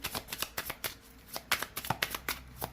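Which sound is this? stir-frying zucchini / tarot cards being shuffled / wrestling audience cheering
tarot cards being shuffled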